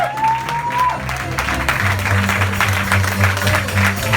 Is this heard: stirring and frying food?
no